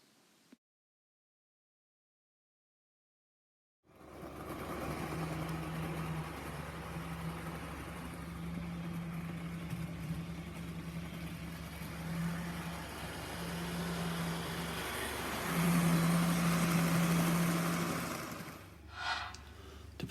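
A model railway locomotive hauls goods wagons along a layout: after a few seconds of silence, a steady, smooth motor hum with a faint whine runs continuously, then fades near the end.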